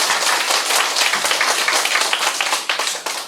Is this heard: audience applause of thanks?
yes